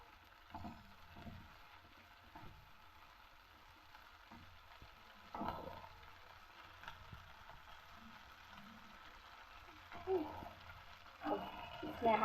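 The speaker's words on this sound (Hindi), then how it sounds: "इसे भूनेंगे जब तक कि इससे तेल छूट ना जाए," Masala fries in oil for a dhaba-style egg curry, a faint low sizzle with intermittent scraping and stirring clatter from a spoon in the pan, quiet and close throughout.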